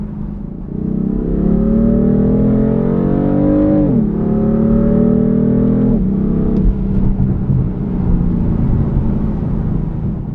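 A 2015 BMW M3 engine revs up and holds a steady, throaty exhaust drone, rising in pitch before dropping and settling, loud and close.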